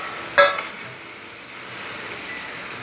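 Fish and water cooking in a pan over a high flame, with a brief clink of a utensil near the start followed by a steady, soft sizzling and bubbling that continues throughout.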